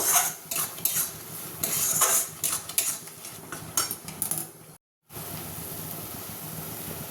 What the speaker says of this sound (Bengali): এবার আমি এর ওপর দিয়ে দিচ্ছি দিয়ে এটা ভালো করে এর সাথে মিশিয়ে নেবো নিয়ে একটু কষবো